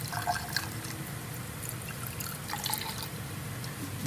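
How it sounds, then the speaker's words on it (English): Fuel trickles and splashes as it is poured into a 1978 Fiat Spider left sitting for years, a soft steady liquid pour with faint drips, quiet and close with no talking. "let's pour some fuel in here."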